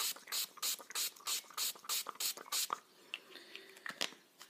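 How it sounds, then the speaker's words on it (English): About ten quick, even spritzes from a spray bottle in a steady rhythm, then quieter handling noises. "I'm going to spray some extra water in it."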